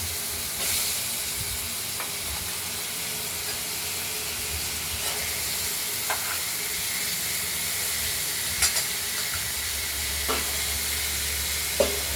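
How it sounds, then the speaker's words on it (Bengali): Cut potatoes frying in oil for a Bengali catla fish curry spiced with cumin and black cumin, a steady broadband sizzle with occasional stirring clicks and spatters, close and continuous with no talking. "এবার এই কেটে রাখা আলুগুলোকে আমরা ভেজে নেব।"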